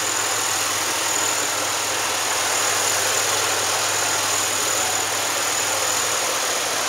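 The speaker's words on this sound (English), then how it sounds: "Motor runs good." A 2005 Pontiac Grand Prix with a 3.8 engine and automatic transmission, 169,271 miles and a damaged front end, idles steadily at a salvage yard, a loud, even hum with no change in pitch throughout.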